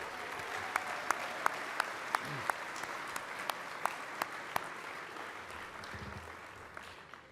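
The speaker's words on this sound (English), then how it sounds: "Please join me in giving all our sponsors one more thunderous round of applause" Banquet audience at a first citizen awards dinner applauding the sponsors, a broad steady wash of many hands clapping with a few sharp, louder claps standing out near the front.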